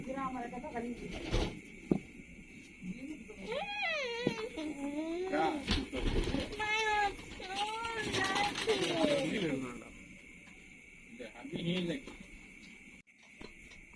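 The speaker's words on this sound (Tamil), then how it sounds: "இதுக்கு முன்னாடி ஒரு காசின் புறா விட்டோம்ல, அதுக்கு அப்பா தான் இந்த புறா." Pigeons coo in a loft, a series of soft, throaty warbling calls repeated close by over a steady background hum, with no talk.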